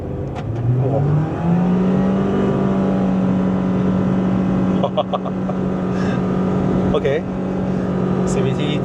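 A 2026 Proton Saga with CVT transmission accelerating hard from 0 to 100 km/h on a Malaysian road, engine note climbing steadily and then holding high revs, loud and close from inside the cabin, with a few faint clicks.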